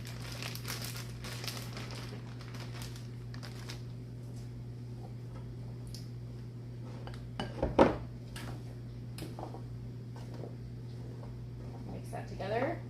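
Potatoes and turkey being stirred together in a pan, soft scraping and clinking of a utensil against metal under a steady hum, with one louder clatter midway and a person talking.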